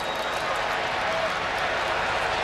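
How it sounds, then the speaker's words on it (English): Inside the Alamo Dome, a packed stadium crowd at a soccer match gives off a broad, steady roar, loud and continuous across the short span with no single voice standing out. "You heard the roar a moment ago."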